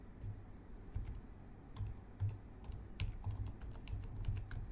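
Keys clack on an HP laptop keyboard while typing into the Windows 11 Run box, a close, quiet series of irregular rapid taps and clicks with no talking.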